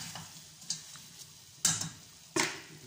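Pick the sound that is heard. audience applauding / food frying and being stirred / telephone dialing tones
food frying and being stirred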